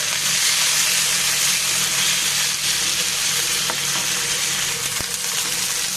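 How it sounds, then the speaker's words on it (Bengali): Chicken pieces frying lightly in oil for Bangladeshi chicken bharta, a dense, steady sizzle close to the pan with a few faint clicks of a spatula, loud and continuous, no voices. "চিকেনগুলোকে হালকা তেলের মধ্যে ভেজে নিব"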